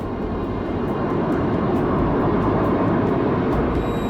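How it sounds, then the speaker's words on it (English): A plane flies overhead above the British countryside, its steady, broadband engine roar droning loud and continuous without letup, with no voices over it. "This is one of the most amazing and most extraordinary aircraft in the world."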